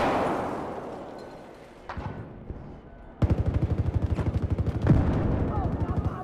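Rapid automatic gunfire from Battlefield 4 (Dragon's Teeth maps), beginning with scattered shots over a rumbling background and then a loud, steady burst of evenly spaced rounds that runs to the end.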